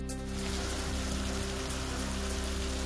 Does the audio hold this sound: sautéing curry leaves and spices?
no